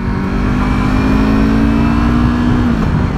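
A Yamaha R3 motorcycle engine accelerates after a gear shift, a loud, close, steady mid-pitched drone that rises slightly in pitch before easing off near the end.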